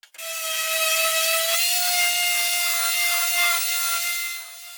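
A larger circle of tropical wood for a garden tabletop is cut with a steady, continuous whining saw tone for nearly five seconds, close and loud, with a brief dip partway through and no talk.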